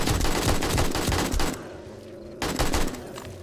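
Heavy automatic weapon fire during a zombie horde fight in 7 Days to Die, loud continuous bursts that break off for about a second, then resume just as dense.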